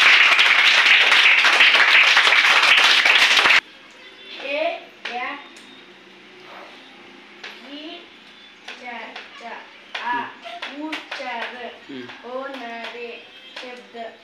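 Children in a classroom break into a loud, dense round of hand clapping for a few seconds, which stops abruptly before young voices begin speaking and reciting.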